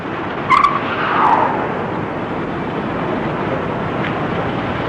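A stolen car pulls away in a radio-drama police scene: a brief engine rev and tire noise near the start, then a steady broad rumble that carries on alone to the end.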